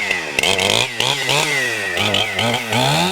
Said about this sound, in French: Quelques coups de tronçonneuse auront suffi pour abattre ces cyprès, âgés de 60 ans